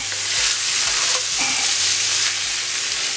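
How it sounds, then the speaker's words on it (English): Vegetables are stirred in a hot skillet, with a continuous close sizzle and frying hiss while a utensil scrapes and turns them through the pan. "We're going to add our vegetables back in. Kind of mix that up a little bit."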